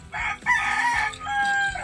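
A rooster crows loudly and close by, one long drawn-out call with no talking.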